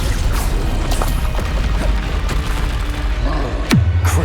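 Incendio fire spell cast in the video game Hogwarts Legacy, a loud whooshing impact with a sharp crack near the end amid busy combat thuds and bangs.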